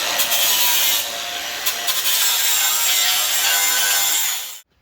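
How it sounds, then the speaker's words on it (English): A grinder works back a weld on the steel chassis of a Holden FB gasser. It runs as a steady, loud, close abrasive rasp for several seconds, with a few brief bites, then stops abruptly. "Grind it back, make it look nice and smooth there again."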